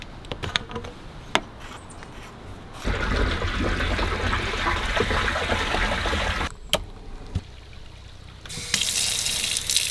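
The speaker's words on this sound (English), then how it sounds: "Those little sputters is just like air coming out of the line" Water runs from a tap in a van, fed by a water pump, in uneven bursts, sputtering and spitting as air in the line pushes through, with brief pauses and clicks between gushes.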